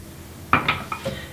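Glass clinking and clattering as dish soap is poured in, several short bright knocks in quick succession, fairly close and alone with no voices.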